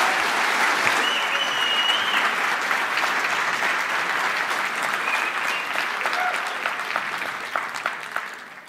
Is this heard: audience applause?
yes